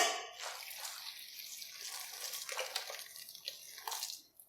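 Hot water is poured over soya chunks in a cooking pot, a close, steady splashing and gurgling stream that runs for a few seconds before tapering off.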